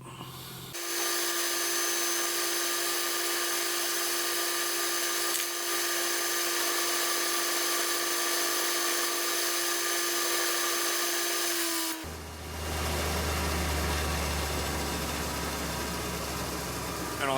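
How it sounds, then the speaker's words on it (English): A drill runs steadily, cutting felt parts for the way wipers of a mini lathe, with a loud constant whine and hum that shifts pitch and grows rougher near the end. "So I'll just go and clamp this in the drill and get started cutting it out."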